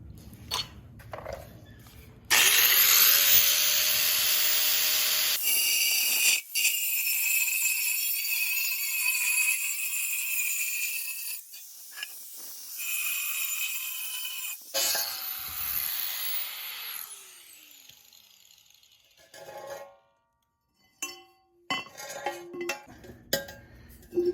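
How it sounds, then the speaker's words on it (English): Rectangular steel tubing, 2x6, getting a relief cut with a power cutting tool: a loud, sustained high-pitched grinding whine that stops, restarts and stops again, followed by a few clanks and handling knocks nearby. "Just gonna take and put a relief cut in there."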